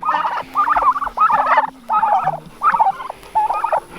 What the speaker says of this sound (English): Our Thanksgiving turkeys are getting pretty good sized.